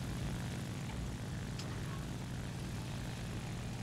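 A propeller aircraft engine drones in a video game squadron battle, a steady, fairly loud hum holding throughout the short stretch, with no voices over it.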